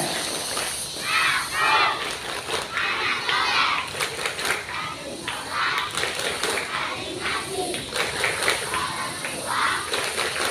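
Schoolchildren at a school gathering in Indonesia chant and clap the 'tepuk anak soleh' routine together, rhythmic bursts of claps mixed with loud group shouting that runs continuously throughout.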